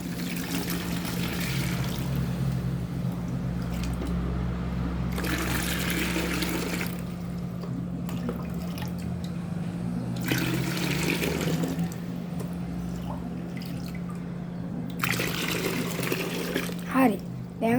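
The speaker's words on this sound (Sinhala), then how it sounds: "ඉතින් අපි වතුර ටිකක් දාගන්නවා මේකට." Water pouring and trickling into a goldfish tank, heard in several bursts of splashing flow with quieter pauses between them, over a steady low hum.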